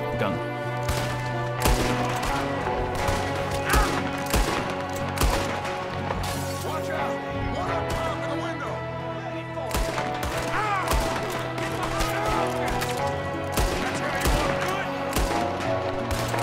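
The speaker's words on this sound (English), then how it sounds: "I was shooting absolutely nothing." Gunshots in the Red Dead Redemption 2 video game, repeated sharp cracks scattered over sustained background music and ambient game noise, keeping a steady loudness throughout.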